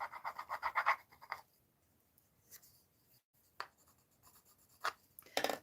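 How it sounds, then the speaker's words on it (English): An old bone folder rubbed over a rub-on transfer on paper, giving close, quiet scratchy strokes in short bursts separated by pauses, with no voices. "So I'm using an old bone folder."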